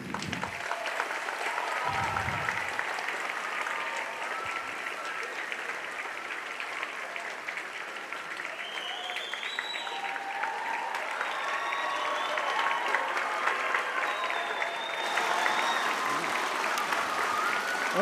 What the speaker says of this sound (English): Please join me in giving me the biggest round of applause in your life for Geronimo Henry.